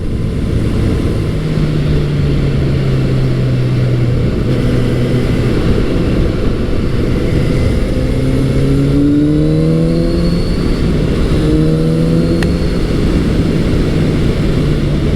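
A Kawasaki Z900RS motorcycle engine pulls hard through the mid-range, its loud, steady drone rising in pitch through successive gear climbs under constant wind noise, with no talking.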